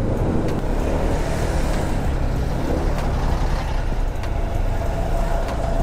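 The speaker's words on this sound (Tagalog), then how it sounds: "Traffic." Road traffic with cars, a continuous broadband roar of passing vehicles and engine rumble, steady and fairly loud with no talk.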